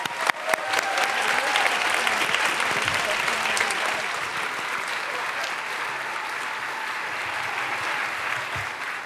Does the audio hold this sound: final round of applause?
yes